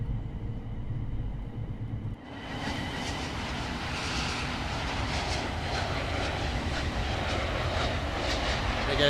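An EasyJet airliner roars overhead in Train Sim World 3, a loud steady engine rumble that swells in after a brief quieter moment and holds over a running train.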